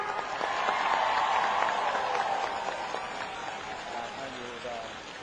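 An outdoor political rally crowd in Nong Wua So, Thailand, claps in the rain, with dense sustained applause swelling then slowly fading against a wash of rainfall.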